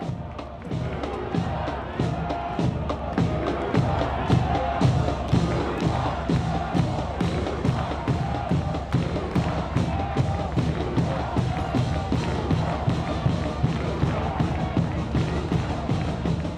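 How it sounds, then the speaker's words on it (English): A noisy soccer crowd of supporters at a stadium roars continuously, with rhythmic chanting and drumming pulses throughout, loud and sustained. "Chattahooligans getting after it. The crowd noisy in Fort Finley."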